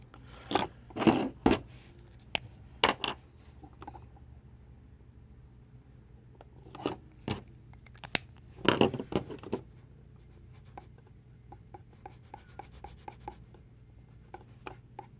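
A cotton swab rubs and dabs Gundam marker ink onto a plastic model, making soft, sparse scratchy strokes and light taps in a quiet room, with short clusters of quick rubbing.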